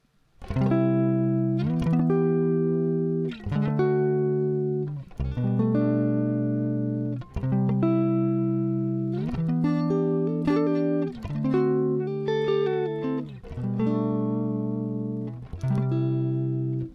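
A clean guitar strums a slow chord progression, each chord ringing out fully before the next change, steady and close with no voices.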